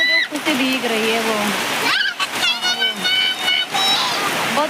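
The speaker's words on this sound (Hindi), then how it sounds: "बहुत तेज बारिश हो रही है।" Heavy rain pours down in a constant, dense hiss that runs beneath nearly continuous talking.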